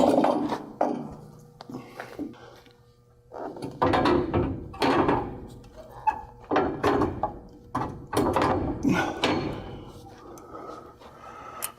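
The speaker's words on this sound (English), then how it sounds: "We'll put the door back up." A door panel being slid back up and latched onto a New Holland air drill, with several clanking, scraping metal knocks in a rapid irregular series, close and fairly loud.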